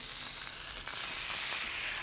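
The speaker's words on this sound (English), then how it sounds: "And I'm shallow frying these in my cast iron skillet." Catfish pieces shallow frying in vegetable oil in a cast iron skillet, a continuous close, bright sizzle and crackle that stays even throughout.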